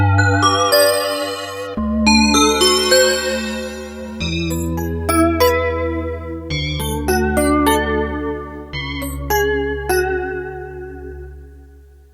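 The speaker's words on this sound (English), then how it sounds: "There we go, bells." Bell tones from a Korg Volca FM 2 synthesizer ring out in a sequence of chiming notes over sustained low chords, bright metallic partials decaying between strikes.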